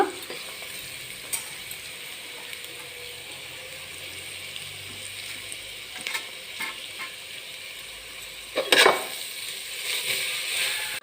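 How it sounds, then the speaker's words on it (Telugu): Grated carrot slowly frying in ghee on a low flame for carrot laddu, a soft even sizzle broken by occasional scraping stirs and a louder clatter near the end. "ఆ నెయ్యిలో క్యారెట్ తురిమేసేసుకుని స్టవ్ సిమ్లో పెట్టుకుని చక్కగా నిదానంగా వేయించుకోవాలి దీన్ని కలుపుకుంటా"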